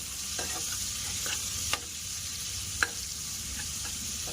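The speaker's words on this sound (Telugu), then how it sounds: "ఇప్పుడు మనకు ఆనియన్ కూడా ఆల్మోస్ట్ ఫ్రై అయింది" Onions with a little salt fry and are stirred in a pan over a low flame, making a continuous close sizzle broken by a few sharp scrapes of the spoon.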